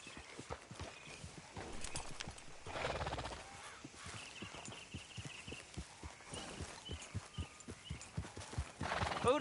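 Hooves clip-clop in a brisk, steady rhythm close by in Red Dead Redemption, with occasional whooshing noise and faint voices in the background.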